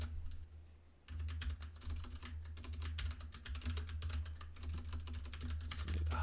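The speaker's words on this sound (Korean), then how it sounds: "오늘 타이핑 안 쳐지네요" Typing on a computer keyboard while coding in C: after a quiet second, rapid close-up key clicks rattle on steadily over a low background hum.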